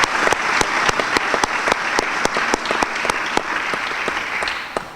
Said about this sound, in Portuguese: Uma salva de palmas também para eles.